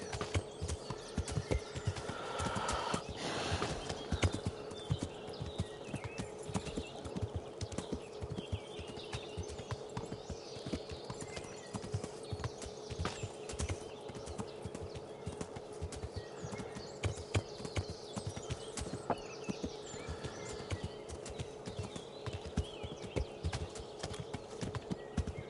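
Horse hooves clip-clop steadily on a road in the medieval game Kingdom Come Deliverance, a continuous even trotting rhythm at moderate distance, with faint ambient outdoor sounds and no talking.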